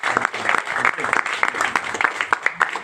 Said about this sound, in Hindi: एक बार ताली अपने लिए बजा सकते हैं।